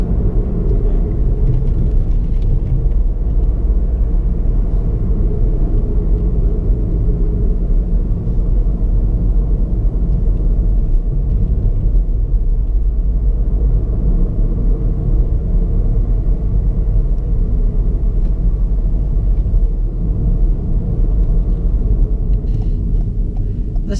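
A 2018 Ford Fiesta Titanium with a 1.0 EcoBoost 125 engine drives on a road, heard from inside as a loud, constant low engine and road rumble with no breaks.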